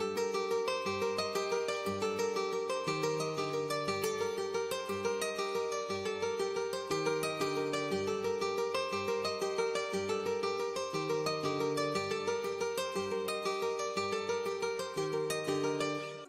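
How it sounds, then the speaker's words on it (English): A Renaissance guitar from Kontakt plays a simple, repetitive triplet pattern of plucked notes in a steady rhythm, moderately quiet and on its own. "I started off with the Renaissance guitar from Contact and I just laid down this simple triplet pattern"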